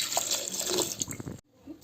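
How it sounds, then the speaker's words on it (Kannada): Water is poured onto cut sweet corn pieces in a pressure cooker, giving a close, faint splashing trickle that stops abruptly, followed by a few soft knocks. "ಇದಕ್ಕೆ ನೀರು ಆ್ಯಡ್ ಮಾಡಿ,"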